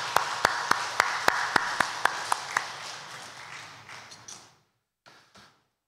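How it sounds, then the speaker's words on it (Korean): A church congregation claps together in a slow, even rhythm of about ten sharp beats, then the clapping dissolves into scattered applause and fades into near silence, with a few faint sounds afterward. "하나님께 우리 영광의 박수"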